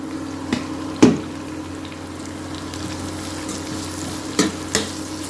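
Onions, green chilies and capsicum stir-fry in a pan under a steady sizzling hiss, with a few sharp clinks of a spatula against the pan.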